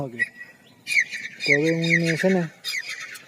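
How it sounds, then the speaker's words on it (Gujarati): A bird calls repeatedly in the background with short, high chirps and whistles while someone speaks in the foreground. "જાણે કે મારી પાછળ આ પંખી બોલે છે"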